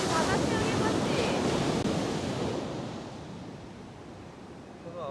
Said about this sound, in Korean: 파도야 선호야 파도.